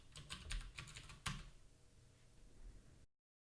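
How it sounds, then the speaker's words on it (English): Rapid clicking of keys on a computer keyboard, a quick run of close, crisp taps with one sharper stroke, then a short fade into silence. "Type in exit to start another Julia session."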